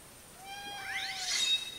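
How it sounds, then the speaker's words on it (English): A cat named Hunter lets out a single loud, rising meow, clear and close over a quiet room. "You probably just heard him meow. I'd be surprised if you didn't hear that. That was pretty loud."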